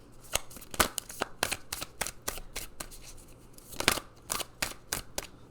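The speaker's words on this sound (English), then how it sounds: "Let's pull some more cards." Oracle cards are shuffled and pulled by hand, giving a quick, uneven run of crisp riffling snaps and flicks up close, fairly quiet and without talk.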